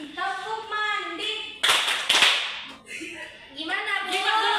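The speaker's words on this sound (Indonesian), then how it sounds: "kita mulai tepuk mandi. Tepuk mandi." A children's bathing clap song, with a short burst of sharp rhythmic hand claps in the middle, set between sung and chanted children's voices.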